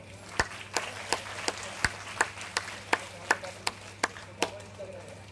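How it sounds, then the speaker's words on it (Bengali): Sparse, separate claps ring out in a steady rhythm at a yoga group's annual event on a stage in Berhampore, a thin smattering of applause from an audience, with a faint low hum beneath and no talk. "তাকে সবাই এখান থেকে একটু উৎসাহ দেবেন এবং হাততালি দেবেন"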